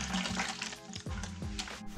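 Water poured through a net into a saltwater aquarium, a short loud splashing gush with gurgling, sloshing pulses, heard close up.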